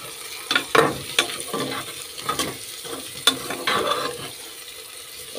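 Chopped tomatoes fry in a pan while being stirred. Scraping stirs and soft sizzling come in uneven bursts, close and moderately loud, with no talking.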